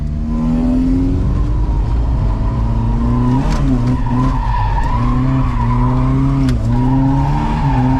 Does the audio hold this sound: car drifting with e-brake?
yes